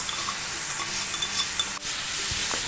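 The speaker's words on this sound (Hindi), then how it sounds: "अच्छे से अदरक को पकाएंगे ताकि अदरक अपना सारा फ्लेवर मसाले में छोड़ दे।" Crushed ginger frying with browned onions in a pan, a steady close sizzle with a few light stirring clinks and scrapes, no voice over it.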